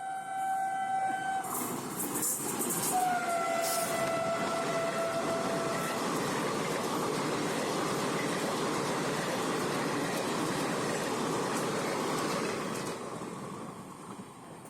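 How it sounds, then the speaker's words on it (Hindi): Varanasi–Gonda Intercity Express passing a railway station at speed, a horn blast early on, then a sustained loud roar of wheels and carriages rushing by before fading at the end. "सामने देख सकते हैं एक स्पीड व्यू हम आप लोगों को दिखा रहे हैं, वाराणसी गोंडा इंटरसिटी एक्सप्रेस"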